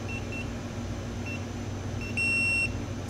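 A Retekess TD162 restaurant pager receives a call, giving a few short faint beeps and then a longer, louder steady tone over a low background hum.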